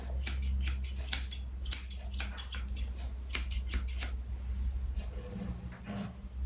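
Scissors trimming the fur on a West Highland White Terrier's head, a quick series of close, sharp snips in irregular clusters, then a quieter pause near the end.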